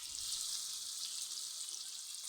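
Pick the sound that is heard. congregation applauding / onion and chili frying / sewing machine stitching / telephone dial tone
onion and chili frying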